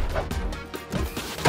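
Space rocks slam into the planet Mercury as a cartoon impact effect: a few heavy, booming crashes and thuds in quick succession, loud and close, with no voices.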